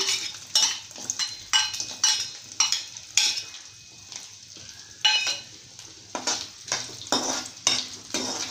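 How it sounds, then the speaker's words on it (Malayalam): Coconut pieces are stirred in a hot pan while preparing a traditional Onam dish, with repeated scraping strokes of a utensil against the pan over a steady low sizzle, close and moderately loud, with no talking. "നന്നായിട്ട് ഇളക്കണം"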